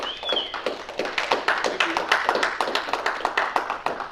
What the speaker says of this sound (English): So please give a round of applause for Bill.